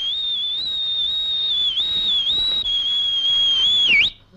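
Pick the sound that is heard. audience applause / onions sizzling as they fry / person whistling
person whistling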